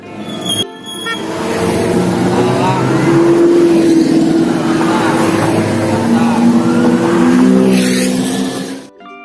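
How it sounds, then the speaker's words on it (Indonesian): A race car engine roars past, loud and close, its pitch whining upward and then shifting through gears before the sound cuts off abruptly. "R is for race car,"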